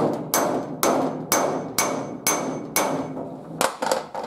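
Repeated hammer blows on the sheet-metal hood of a 1950 Ford during bodywork, about eight sharp metallic strikes spaced roughly half a second apart, close and loud with ringing decay, ending in a quicker cluster.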